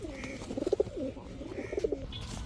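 A pair of red Rajgolla pigeons coo close by in soft, throaty bursts, two rolling calls separated by a short pause.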